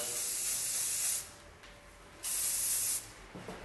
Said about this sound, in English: it's important that you lift the hair and put the spray right into the hair